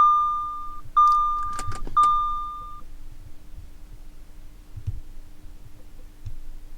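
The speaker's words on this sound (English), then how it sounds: "I'm gonna start up the car just on auxiliary mode, then turn it on all the way" Audi Q7 TDI brought to life with chiming warning beeps and a few clicks from the ignition as it switches on, then a low steady idle rumble continuing quietly with no talk.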